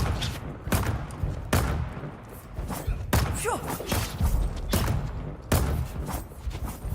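Turrets firing in the video game Dune: Awakening: a steady series of heavy, thudding shots about once every second or so, loud and close, with a brief chirping tone in the middle.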